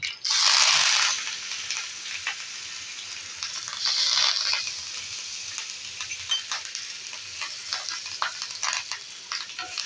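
Mustard seeds crackle in hot oil for tempering a red chilli garlic chutney, a loud sizzling burst at the start and another around four seconds, then scattered sharp pops and light crackles continuing close by.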